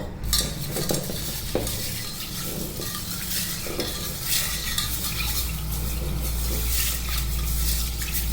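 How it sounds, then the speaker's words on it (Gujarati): Close, continuous sloshing and swishing of water with green moong beans in a metal pressure cooker, with occasional light clinks against the sides. "એકવાર પાણીથી વોશ કરી લેશું"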